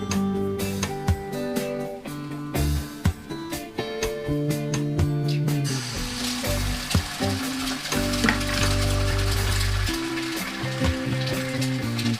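Bread toasts in a pan with margarine, giving a continuous close-up sizzle and crackle with occasional scraping and stirring noises that grow louder and denser toward the end.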